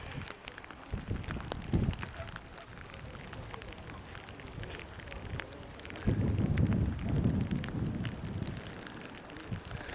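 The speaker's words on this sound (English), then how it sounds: "Still got constant drizzle, light rain" Constant light drizzle falls on a street in Morocco, a soft steady patter with wind buffeting the microphone, growing louder and denser in the second half.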